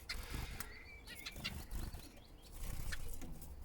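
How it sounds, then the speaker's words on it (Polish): Small finches, including zebra finches, in an aviary give soft scattered chirps, calls and occasional wing flutters, moderately near and fairly quiet, with no one talking. "Tutaj pokażę Wam teraz, jak sobie żyją ptaszki."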